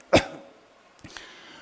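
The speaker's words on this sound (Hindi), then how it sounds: "ये जो बार बार झटके लग रहे हैं ना, खांसी के झटके" A single sharp cough close to the microphone, followed by a fainter second throat sound a moment later in a quiet room.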